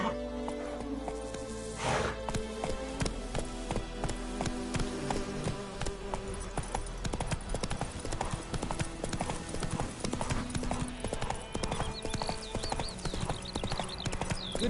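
Roach, Geralt's horse in The Witcher 3 on PS5, gallops with steady, loud hoofbeat clip-clop in a quick rhythm, close by over a continuous game background, with a faint buzz of insects.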